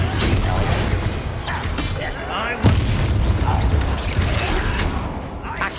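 A Confringo fire spell from Hogwarts Legacy booms amid dense battle noise, a sharp shattering hit standing out midway through a loud, continuous rumble of combat effects.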